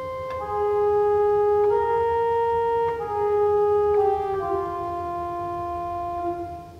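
Pipe organ principal 4-foot stop on the great, played an octave lower: a slow sequence of sustained, steady notes in a clear flute-like tone, each pitch held for a second or more, with no talking.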